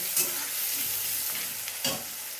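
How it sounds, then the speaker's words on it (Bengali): Onions fry in a hot pan as a steady, fairly quiet sizzle with a few soft stirring scrapes, no voices. "আর এদিকে পেঁয়াজ ভাজা হতে থাকুক"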